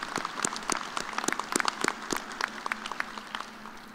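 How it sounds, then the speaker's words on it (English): A room full of people applauds at a university commencement ceremony, dense steady clapping at moderate distance that carries on without pause. "Give a round of applause."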